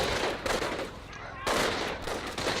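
MG42 machine gun fire from the video game Company of Heroes rattles in dense, continuous bursts, loud and close, with a brief lull before another volley.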